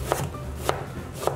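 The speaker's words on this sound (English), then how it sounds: "What we're gonna do with our onion is just finely dice it." Three evenly spaced knife chops on a cutting board as an onion is finely diced, crisp close thuds about half a second apart over a quiet background.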